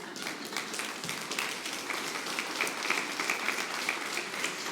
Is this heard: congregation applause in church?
yes